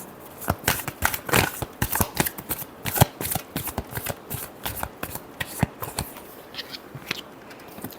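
Tarot cards being shuffled for a weekly Libra horoscope reading: a long run of quick, crisp riffling flutters and slaps, close and fairly loud, with no talk.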